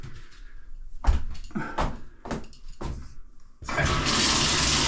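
A few sharp clunks and knocks from handling plumbing behind a shower head, then water surges on and rushes loudly through the shower pipes in a steady, close hiss.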